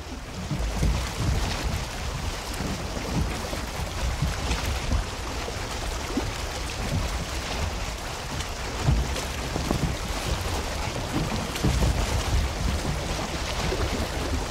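A wooden boat paddling across open water in Valheim, with steady wash of waves and wind rushing continuously and fairly loud throughout, no talking.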